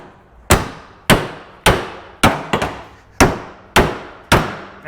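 A hammer strikes the hood hinges of a flood-damaged 2013 Dodge Dart eight times in a steady rhythm, each a sharp, close metallic clang that rings briefly, with two blows coming close together near the middle.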